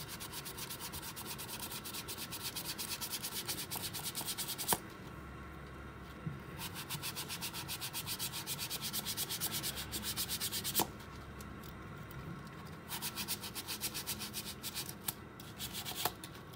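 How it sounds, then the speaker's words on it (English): Sandpaper rubs back and forth over a pen blank in fast, steady strokes, a close scratchy hiss that briefly pauses twice before resuming. "Now you're gonna sand up this whole pen."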